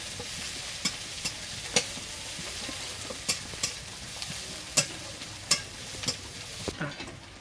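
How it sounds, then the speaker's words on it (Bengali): Chopped onion lightly frying for a bhola fish jhol, a soft continuous sizzle broken by regular sharp spatula scrapes and taps as it is stirred, close and without speech. "পেঁয়াজটাকে আমি একটু হালকা ভেজে নেব।"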